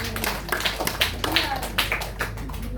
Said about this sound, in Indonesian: Tepuk tangan buat Kak Dian.